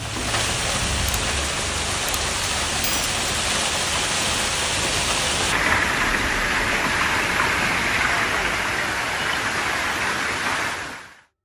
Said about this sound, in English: heavy rain suddenly flooded the streets, toppling trees and shocking residents.